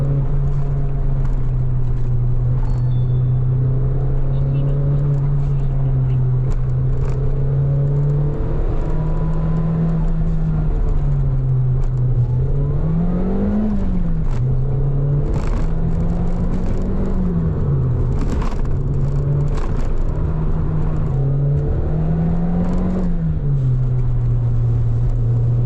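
Early-90s Nissan Pulsar GTi-R, an all-wheel-drive turbo 4-cylinder hatchback, driving with a steady loud engine drone that rises and dips in pitch as revs change, heard alone throughout.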